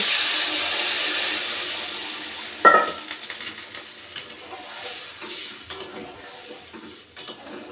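Water poured into a pan of spices and vegetables frying for a river fish curry sets off a loud burst of sizzling and hiss, which then settles into steady bubbling and spitting.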